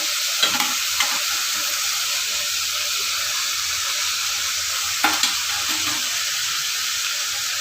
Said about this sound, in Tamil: இது ஒரு அஞ்சு நிமிஷம் வதங்கட்டும்